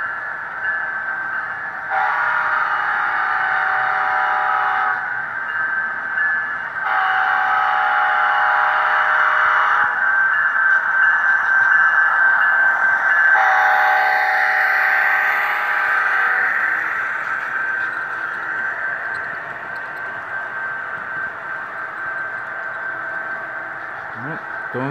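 An HO scale Amtrak P42 model locomotive runs with sound, giving repeated loud horn-like tonal blasts in long bursts that fade into a steadier humming tone toward the end.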